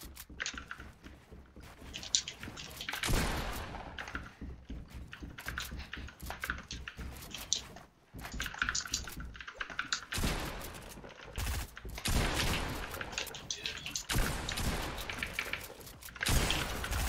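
Bursts of video game gunfire in an arena match, rapid volleys and repeated shots in dense loud clusters with brief gaps, continuing throughout without talk.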